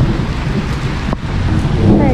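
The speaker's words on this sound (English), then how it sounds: "Oh, it's raining a lot." Heavy rain pours down steadily during a storm in Central New York, a dense close hiss with a faint low rumble underneath and a short dip midway through.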